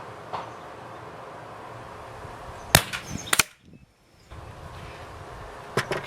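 Sharp cracks from an old-style Daisy 880 air rifle, several quick pops with a tight pair in the middle and another later, heard outdoors over steady wind and background rumble.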